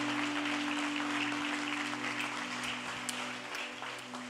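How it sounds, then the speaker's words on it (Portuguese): A church congregation applauds during a sermon, steady distant clapping under a low electrical hum, continuous and fairly faint. "Pode aplaudir ao nome do Senhor se você é essa pessoa."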